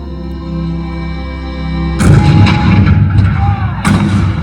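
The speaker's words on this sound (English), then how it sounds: "the cannons spoke for war." Several heavy cannon booms, loud and close, follow a stretch of sustained orchestral music in a Disneyland stage show, with rumbling echoes trailing between the blasts.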